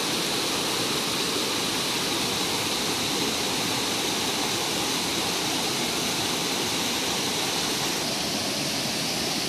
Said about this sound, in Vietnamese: suối nó chảy trên đá nó gọi là suối đá quá